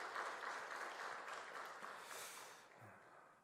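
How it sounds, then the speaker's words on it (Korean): A church congregation claps for the choir in a short burst of fairly faint, even applause that tapers off within a few seconds. "여러분 우리 한번 격려의 박수 한번 해주시고요"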